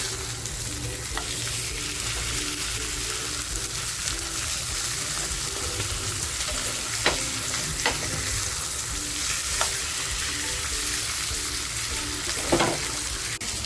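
Spiced pomfret wrapped in banana leaves fries in a pan with a loud, continuous sizzle. Occasional clicks and scrapes mark it being moved and flipped.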